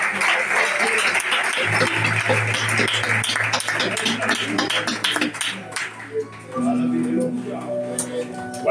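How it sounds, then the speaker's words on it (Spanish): A church congregation applauding God, loud sustained clapping mixed with cheering voices and musical tones underneath, tapering off near the end as a held instrument note continues. "Dale un fuerte aplauso a Dios."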